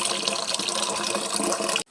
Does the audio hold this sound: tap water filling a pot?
yes